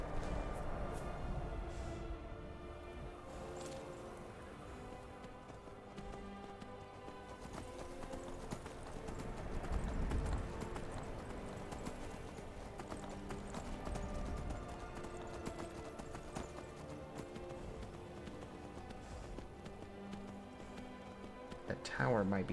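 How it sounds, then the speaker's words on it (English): Horse hooves clip-clop steadily in the video game Skyrim, a continuous trotting rhythm under a dense layer of game music and ambience, with someone talking over it. "Let's go collect our horse."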